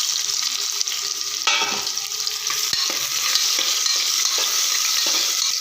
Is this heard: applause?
no